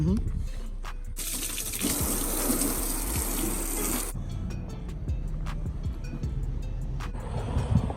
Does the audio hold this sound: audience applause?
no